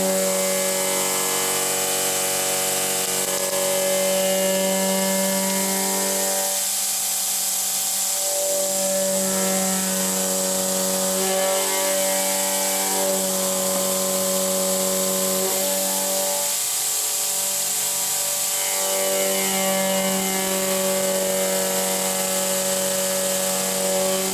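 A milling machine running a shear hog cutter through a metal pulley, cutting a pocket. The loud, steady tonal whine and harmonic hum hold throughout, with a periodic rise and fall in the cutting noise. No one speaks.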